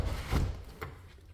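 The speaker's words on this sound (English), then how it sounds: "I'll close the door so you can notice the sound difference." A door in a house closes with a soft, muffled wooden thunk, followed by a fainter click a moment later, quiet and close in a still room.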